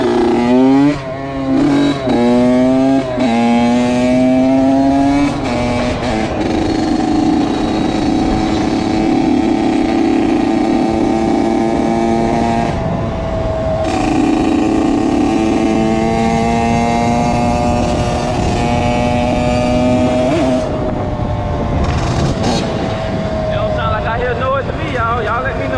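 A 2001 Honda CR80 dirt bike with a previously knocking engine revving hard on a test ride, its high two-stroke whine climbing and dropping through repeated throttle bursts, loud and close with voices heard at times.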